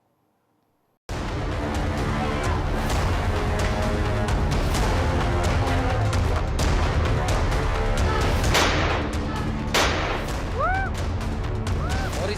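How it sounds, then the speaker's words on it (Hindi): Rapid, repeated gunshots from a man firing in a residential area of Lalitpur, standing at the doorway of his house, sharp bursts cutting through a dense, continuous background of noise for most of the clip. "ललितपुर में एक दबंग ने इलाके में दहशत फैलाने के लिए ताबड़तोड़ फायरिंग की, जिसका वीडियो तेजी के साथ वायरल हो रहा है"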